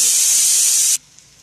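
Okra (bhindi) sizzles loudly in a pan while being stirred, a dense steady hiss lasting about a second before cutting off abruptly into near silence.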